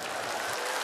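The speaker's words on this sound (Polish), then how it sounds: "Można brawa jak nigdy" An audience applauds at a comedy cabaret show, a brief, dense wash of clapping that is fairly quiet and even throughout.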